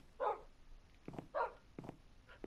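A dog in the Minecraft video game on PS4 barks twice, short evenly spaced yelps separated by a second of quiet, fairly faint and alone.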